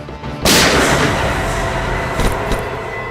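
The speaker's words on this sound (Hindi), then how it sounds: "गोली चली क्या बस?" A single loud gunshot cracks out sharply, followed by a long echoing rumble and a couple of fainter bangs afterward.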